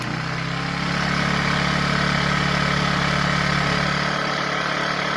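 A Generac 1200 watt portable inverter generator idles low in economy mode, a steady close engine hum with a faint vibration and no speech.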